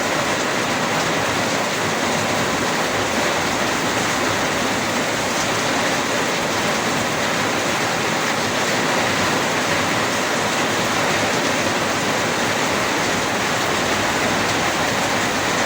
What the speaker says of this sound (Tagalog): Lalakas ang ulan. Kay bagyo.